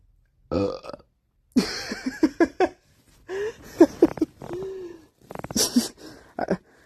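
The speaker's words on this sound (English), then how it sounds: "I'm not sure if you heard that burp" Several short belches one after another with brief pauses between them, loud and close, with no talking.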